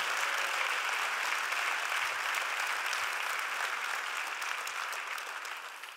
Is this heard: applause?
yes